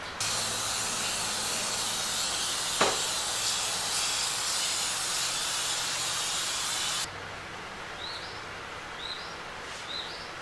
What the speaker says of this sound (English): we're just going to spray it down